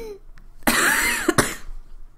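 A single harsh cough up close, followed by a brief second burst, with quiet breathing around it.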